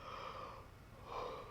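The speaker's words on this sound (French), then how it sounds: "Donc, vous bâillez," A person yawns during a voice lesson: a soft, breathy, drawn-out exhale that swells twice, quiet and close, with no talking.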